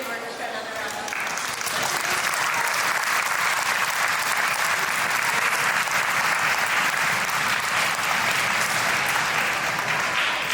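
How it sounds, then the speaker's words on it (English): A school concert audience applauds a fourth grade orchestra, dense sustained clapping that fills the hall at an even, loud level throughout. "Can we have fourth grade orchestra another round of applause?"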